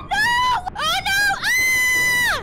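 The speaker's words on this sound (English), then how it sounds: "Pretty loud scream." A loud, piercing scream from the video game Minecraft, a Godzilla-versus-Bloop mod. There are two shorter rising cries, then one long sustained shriek that drops off at the end.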